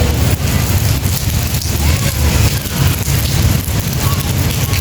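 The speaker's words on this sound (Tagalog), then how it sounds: "Oh, iba yung ulan niya ngayon." Heavy rain pours steadily onto surfaces near a large cathedral shelter, a dense, loud, continuous hiss and patter with no breaks.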